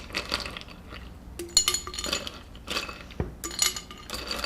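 Ice cubes clink into a glass while a drink is prepared in a kitchen, giving a few separate bright rattling knocks and clatters up close, with quiet pauses between them.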